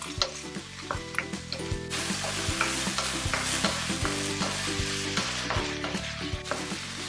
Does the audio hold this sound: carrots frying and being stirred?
yes